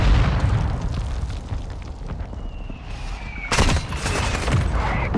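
Mortar explosions in Call of Duty: Modern Warfare II: rumbling battlefield noise, then a sharp, loud close blast with a whistling streak before it and more crackling detonations after.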